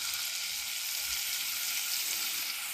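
Chicken pieces fry in butter in a pan over moderate flame, giving a steady, close, even sizzle that holds without pause and has no talking over it.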